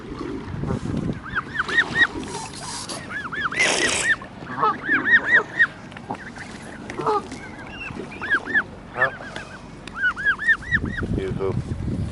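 Geese at a bird park on the Isle of Wight honk again and again, close to the recorder. Their loud, overlapping calls come in irregular bursts over a busy outdoor background.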